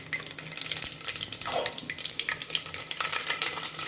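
Mustard seeds and cumin hit hot oil for a small-fish curry, producing a hissing sizzle with scattered pops and crackles that rise and fall, close and fairly quiet, with no one speaking.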